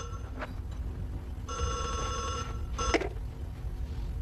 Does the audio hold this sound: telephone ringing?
yes